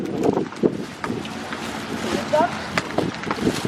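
Gusty wind buffets the microphone outdoors, a steady broadband rush with louder swells, while people talk and move nearby throughout.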